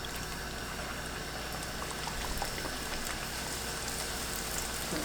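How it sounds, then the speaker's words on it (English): Fry jack dough frying in hot oil for a Belizean breakfast, a dense, steady sizzle and bubbling crackle heard close up and continuous, with no talking. "So as soon as the oil is ready, we're going to start frying."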